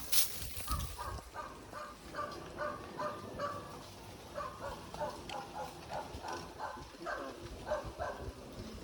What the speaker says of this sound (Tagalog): May aso nga eh.